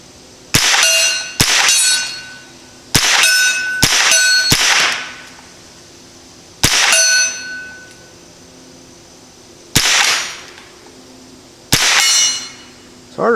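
Smith & Wesson M&P15-22 rifle firing CCI standard rimfire rounds at a 50-yard target, sharp cracks at an irregular pace, each followed by a ringing metallic clang and a short echo, with no talking.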